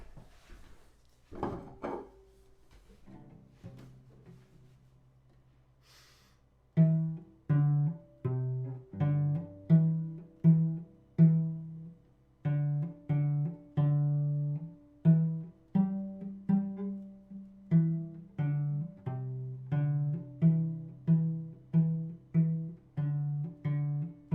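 After a few bumps and knocks, a cello plays "Mary Had a Little Lamb" as a slow, simple beginner melody of separate bowed notes, each swelling and fading, quiet and close.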